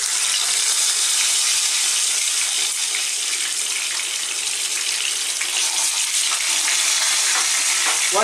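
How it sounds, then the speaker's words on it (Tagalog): Loud, steady sizzling of tilapia frying in hot oil, a dense crackling hiss that continues without pause and with no talking. "So magpiprito po muna tayo."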